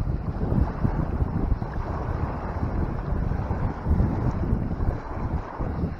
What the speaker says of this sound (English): This wind just makes things harder for bite detection